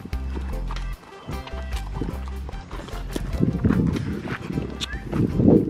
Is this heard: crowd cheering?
no